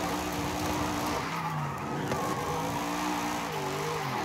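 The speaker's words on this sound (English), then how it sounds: "this thing just burns those tires, man" A car does a tire-spinning burnout in Forza Horizon 5, its engine roaring loud and sustained at high revs with a rising and falling note over a constant screeching, smoky tire squeal, and no talking.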